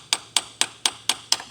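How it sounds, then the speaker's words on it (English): Six light, sharp hammer taps on metal, evenly spaced and close, with nothing else audible, during timing belt and water pump replacement on a Ford Fusion, tapping a tool near the camshaft. "So I'm gonna use this hammer"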